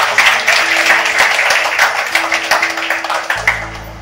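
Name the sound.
audience clapping to welcome the speaker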